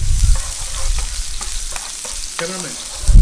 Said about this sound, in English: Look at the sizzling sound from the